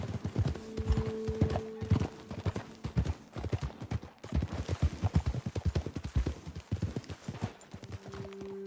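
Horses' hooves clip-clopping on a trail in Red Dead Redemption 2, a steady rhythmic patter of several animals close by, with brief snorts or whinnies.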